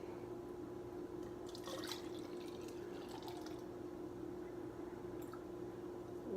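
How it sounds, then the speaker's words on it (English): Nursery water pours steadily into a pitcher for bottle making, giving a continuous close trickling fill with faint drips. "I'm going to fill it up with this nursery water."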